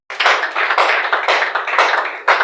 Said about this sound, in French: Est-ce que nous pouvons nous applaudir?